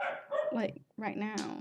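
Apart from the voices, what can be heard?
dogs barking in the background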